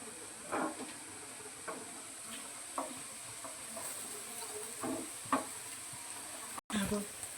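Alu vadi pieces frying in hot oil produce a continuous sizzling hiss with occasional louder pops and stirring clatters, heard up close and briefly cut off near the end.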